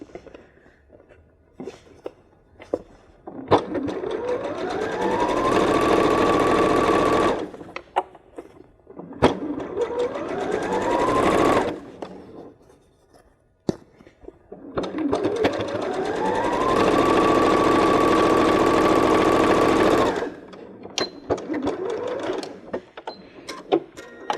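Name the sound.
sewing machine stitching a zigzag seam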